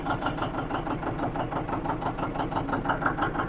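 A John Deere 720 diesel tractor, once used for hay farming, idles with a steady, rapid knocking chug, loud and close with no other sounds.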